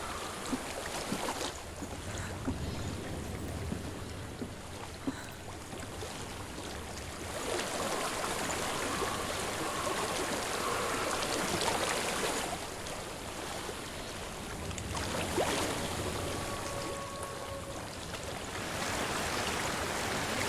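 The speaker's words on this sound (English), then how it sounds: "I hear water." Flowing water in the video game Hellblade: Senua's Sacrifice, a continuous rushing wash like a stream, broad and steady with gusts of wind noise and faint tonal swells drifting over it.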